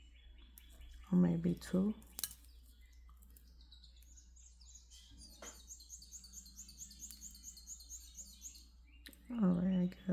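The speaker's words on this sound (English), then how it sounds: "I guess the birds are talking to me." Birds chirp and sing steadily outdoors in light, high twittering phrases, with a voice speaking briefly at the start and near the end.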